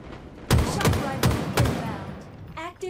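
Four loud, close gunshots from a weapon in Halo crack out in quick succession, followed by a short electronic tone, with a voice briefly heard.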